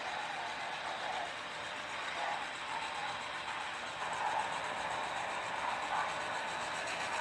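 A model train runs along its track out of the yard with a steady, soft mechanical whir and faint rolling rumble, continuous and moderately distant.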